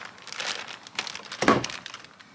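Cardboard box holding a lift kit for a 2022 Ford F-150 PowerBoost being opened, with close, soft crinkling and a sharper crunch of cardboard midway, fairly quiet and without talk.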